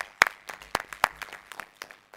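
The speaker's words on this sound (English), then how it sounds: "Let's give them another round of applause." A small audience at a board of trustees meeting applauds students with scattered, individual claps that start crisp and close, then thin out and fade within about two seconds.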